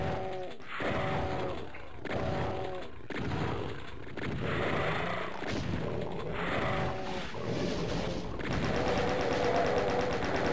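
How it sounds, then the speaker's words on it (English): Rapid, loud gunfire in Doom while shooting an imp, repeated bursts of shots in clusters, with game sound effects and a voice talking over them. "We're going to start off by shooting this imp here."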